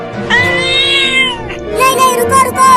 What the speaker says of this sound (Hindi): मियाऊ, ये मियाऊ क्या है?